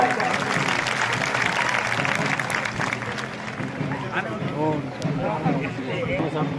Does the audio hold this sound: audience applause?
yes